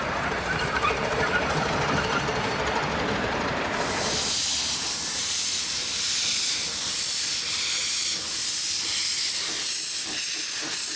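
A loud, steady hiss of steam bursts in after a few seconds and continues, layered over a rumbling mechanical background, from a miniature steam locomotive on a 7¼ inch gauge railway.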